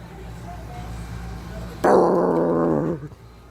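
A dog growls and barks close by in a short, loud burst of layered harmonic sound, rising suddenly from a quiet indoor background and cutting off after about a second.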